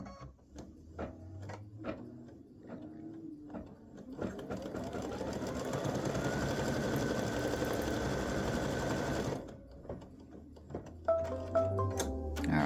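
An embroidery machine runs a satin stitch for an appliqué elf hat and legs design, a steady close mechanical whirr with rapid needle ticking lasting several seconds, framed by scattered clicks and taps before and after.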